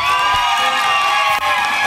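Wedding guests cheer and shout loudly in a continuous, excited crowd roar, with whoops and high voices, after a dance team performs the lezginka.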